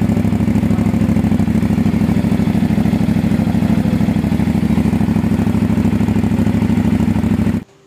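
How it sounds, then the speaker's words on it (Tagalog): A 2024 CFMoto 450 NK with a cross-plane engine and the stock upswept exhaust muffler idles close by with a steady, throbbing exhaust note, then cuts off abruptly near the end. "mas mapipil nyo kung gaano kaganda at kalakas itong ating stock pipe na to"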